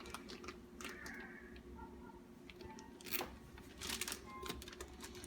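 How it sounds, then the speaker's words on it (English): A zip tie is ratcheted tight around a bag holding a butchered chicken, with quick clicking zips and rustling plastic, close and fairly faint over a low background hum. "all you got to do is just zip tie it up."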